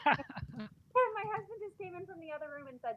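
A cat meows in long, drawn-out wails, several in a row, close by, while a person talks over the start.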